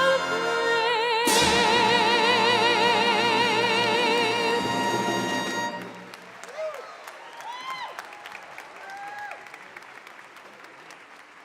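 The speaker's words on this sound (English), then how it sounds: "Can we clap one more time for Alex?" At a university commencement ceremony, the final note of the national anthem fades out and gives way to a crowd clapping, the applause steady at first and then thinning out.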